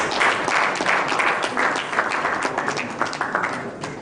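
Dense audience applause fills a plenary session hall, a steady wash of many hands clapping at close range for about four seconds with no talking over it.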